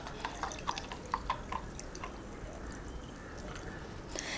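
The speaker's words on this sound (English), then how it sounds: "now we need to just simply use a sieve and pour our coffee concoction into both our jars" Cold coffee is poured through a sieve into mason jars filled with ice, giving faint drips and small trickles close by, clustered early and then thinning out, with no talk.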